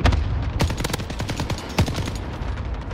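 Rapid video game gunfire, a fast run of sharp automatic shots with a few louder cracks standing out over a low rumble, continuous for a few seconds.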